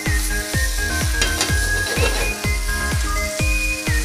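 Chicken fries in hot oil in a pan after being turned, a loud continuous sizzle with a regular series of sharp crackling pops and faint clinks, close by and without talk.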